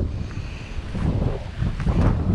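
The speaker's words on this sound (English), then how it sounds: "This wind blowing is nice" Steady wind gusts buffet the microphone outdoors on open water during a muskrat trapping outing, making a continuous low rumbling roar with no voices.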